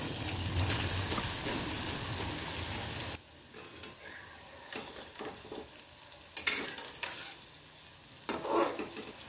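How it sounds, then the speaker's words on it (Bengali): Sweet potato puli deep-frying in hot oil give off a loud, dense sizzle for the first few seconds, then the bubbling drops to a quieter, uneven crackle with occasional louder bursts. "এই যে বানানো হয়েছে সেগুলো আমি আবার তেলে দিয়ে দেবো।"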